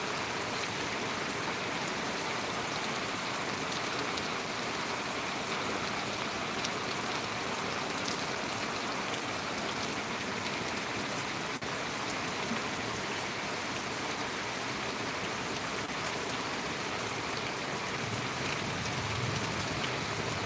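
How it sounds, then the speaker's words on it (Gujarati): Heavy rain pours down in a dense, unbroken roar that stays loud and even throughout, with no voices over it. "જોરદાર વરસાદ છે"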